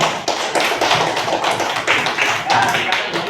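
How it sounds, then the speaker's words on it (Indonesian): Applause from an audience of a group session fills the whole stretch as dense, steady clapping, loud and close. "Kita berikan aplaus dulu."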